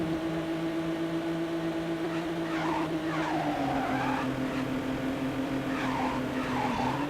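Steady engine drone from a motorcycle in the Midnight Club 2 racing video game, holding a constant pitch with a small downward shift midway, while tire-squeal-like whines rise over it, alone with no voices.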